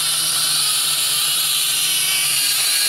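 Potensic drone with video feedback flying nearby, its steady high-pitched rotor whine and buzz holding continuously at fairly constant loudness, with no talking.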